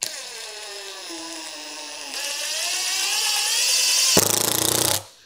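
SKIL PWRCore 20V brushless impact driver running up in a rising whir, then switching into rapid hammering impacts as the screw seats, close and loud before stopping abruptly.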